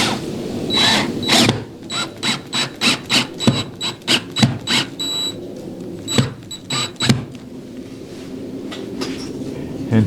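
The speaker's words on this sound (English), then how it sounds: "Get the drill." A power drill drives a screw into boat carpet trim, with a string of short, loud whirring bursts in uneven rhythm, close by, with brief pauses between pulses.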